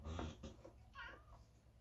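A house cat meows near a kitchen microwave, giving a couple of short, close cries followed by a rising, drawn-out mew, with faint household noise behind.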